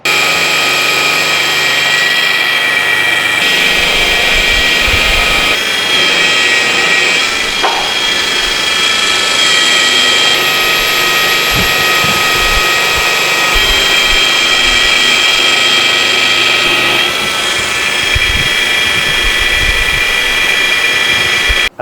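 A buffing wheel strips anodizing off an aluminum piece with a loud, continuous high-pitched whine and rushing hum, the pitch and intensity varying as the workpiece is pressed against it.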